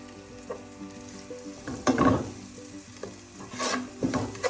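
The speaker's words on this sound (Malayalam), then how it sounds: "അത് എണ്ണയിൽ കിടന്നൊന്ന് മൂക്കട്ടെ" Turmeric powder frying in hot oil for a Kerala halibut fish chilli curry, with a few scraping stirs of a spoon through the pan over a soft sizzle and a steady tonal hum.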